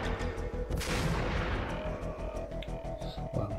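Faint bursts of gunfire in the video game Max Payne crackle in quick succession, with a sharp blast near the start, over a busy low background.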